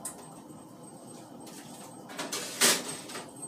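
Turkey burgers going into a toaster oven: faint rustling and handling, then a sharp close clatter of the small door shutting, with a brief metallic rattle after.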